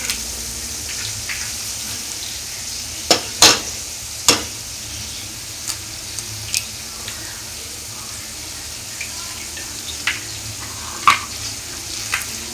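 Kothu parotta with eggs fries on a hot pan with a constant sizzle, broken by scattered sharp clanks and scrapes of stirring, a few loud hits clustered early, others sparse later.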